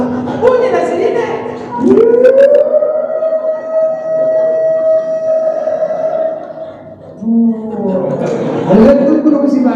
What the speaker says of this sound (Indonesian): Bunyi sirine Ustaz.